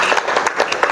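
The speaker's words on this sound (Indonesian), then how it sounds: "Tepuk tangan untuk kelompok 1." Classroom students clapping for a presenting group, a brief, close burst of quick, rhythmic hand claps filling the room.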